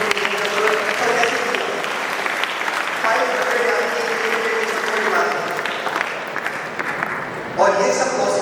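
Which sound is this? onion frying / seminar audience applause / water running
seminar audience applause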